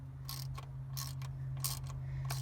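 A ratchet tightens a thermostat housing bolt on a GM 5.3L V8 engine, threading into aluminum, giving several short bursts of quick clicking over a steady low hum, close and fairly quiet.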